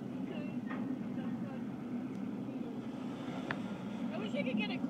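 Train in an active rail yard in Hermon, Maine, a steady low rumble of moving cars and engine with faint metallic clanks, while people talk nearby throughout.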